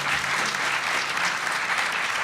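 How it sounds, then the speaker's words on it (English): A seated audience at a cannabis and psychosis forum gives the panel a dense, steady round of clapping that holds at an even level throughout, with no voices over it. "Please give them a big round of applause."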